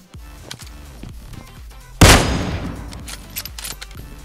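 Gunshots in PUBG Mobile ring out as a series of distinct, fairly close cracks, with one loud blast near the middle followed by a lingering rumble and more scattered shots.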